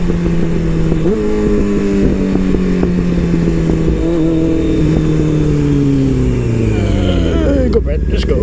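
A motorcycle rides fast on a group ride, its engine a loud, steady close drone that climbs in pitch and steps through gear changes, mixed with wind rush.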